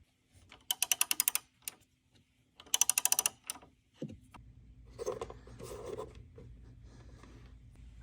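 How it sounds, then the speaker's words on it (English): A ratchet tightening the negative battery terminal on a 2019–2025 Chevrolet Silverado or GMC Sierra 1500 pickup, two quick bursts of rapid clicking, then a faint clunk and a soft low rattle as the battery lid goes back on. "We can now reinstall our negative battery terminal and put the lid back on top of our battery."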